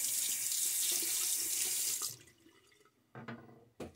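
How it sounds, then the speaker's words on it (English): A tap runs steadily into a sink while a brass safety razor, a Karve CB, is rinsed, then shuts off, leaving a couple of close splashes and clinks. "Get a good rinse here."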